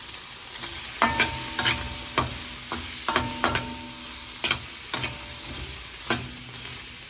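Pork fat sizzles and crackles in a hot pan as it renders its oil, with a steady frying hiss broken by repeated sharp scrapes and clinks of a spatula stirring.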